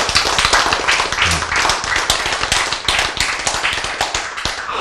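A church audience claps together in quick, rhythmic hand claps, loud and close, sustained without a break for several seconds.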